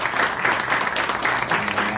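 Audience applause at a live trio concert, a steady dense wash of clapping hands that holds at full strength for the whole stretch, close and loud.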